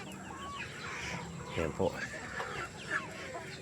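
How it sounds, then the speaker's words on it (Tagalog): Rhode Island Red chickens cluck softly nearby amid background farm noise while a person talks over them. "pwede rin pong bumili rito ng mga manok"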